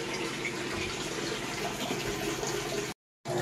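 A Panasonic washing machine under repair fills with water, giving a steady rushing hiss that runs continuously, then cuts to silence briefly before resuming.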